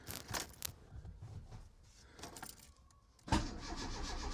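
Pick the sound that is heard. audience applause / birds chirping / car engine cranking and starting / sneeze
car engine cranking and starting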